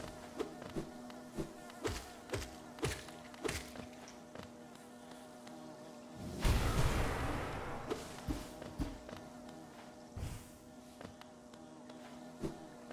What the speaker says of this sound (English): Too many bees.